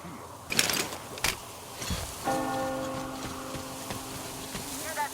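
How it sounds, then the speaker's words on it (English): A church bell tolls in the video game Metro Exodus, on the Volga near a church, with a sustained ringing tone after several sharp bangs, holding steady over a few seconds amid ambient game noise. "Hear that bell?"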